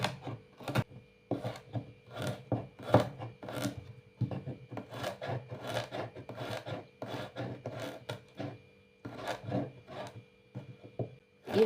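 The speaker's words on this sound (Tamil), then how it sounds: "நான் இந்த கரண்டி வச்சுட்டு தாங்க நறுக்கினேன்." A metal spoon scrapes and chops through vegetables, a rapid run of rasping, rubbing strokes that repeat steadily at close range, with no talking.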